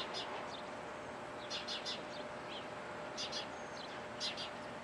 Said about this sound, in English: Does anybody know what kind of bird is this? Must be expensive.